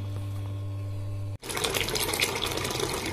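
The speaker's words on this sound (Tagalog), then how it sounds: "Kaya malakas ng tulo ng tubig." Household sink faucet fed by a motor pump and pressure tank, a steady electric hum that abruptly gives way to a loud, strong rush of water splashing under pressure.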